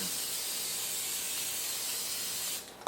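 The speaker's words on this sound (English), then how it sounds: "I'm gonna put the butter, and I'm gonna spray it on the pan." A continuous aerosol butter spray hisses steadily onto a hot pan for a few seconds, close and fairly loud, then cuts off abruptly.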